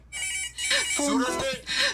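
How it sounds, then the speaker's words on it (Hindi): A cell phone rings in a repeating electronic tone, starting after a brief pause and continuing in pulses, with voices audible alongside it. "सूरज का फोन है।"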